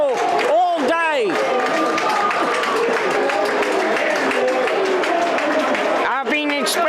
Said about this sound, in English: this is what the crowd have been waiting for all day